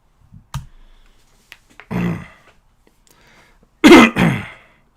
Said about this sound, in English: I just coughed